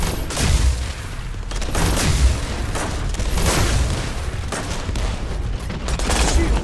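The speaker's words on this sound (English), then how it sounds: "Bring on our rocket launcher. A grenade launcher." Rocket launcher and grenade launcher fire in The First Descendant, a run of loud, heavy booming blasts that repeat across the whole stretch over dense battle noise, with no pauses between the explosive bursts.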